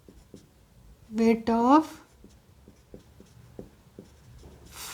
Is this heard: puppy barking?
no